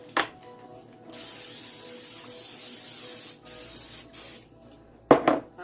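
Cooking spray misted into a Pyrex baking dish in a home kitchen, a steady close hiss running for several seconds, broken by brief pauses and ending with a few short clattering bursts.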